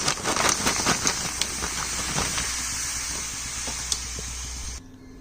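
Freshly fried moong dal is tipped into water with a loud, steady hissing sizzle that holds for about five seconds, then cuts off abruptly into near silence.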